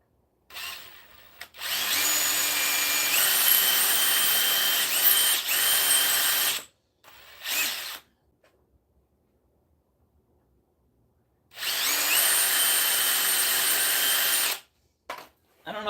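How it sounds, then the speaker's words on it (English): A power drill whirs in two sustained bursts a few seconds each, pre-drilling wood close by, separated by a quiet gap with a brief shorter whir between. "we'll hit that with a quick pre-drill"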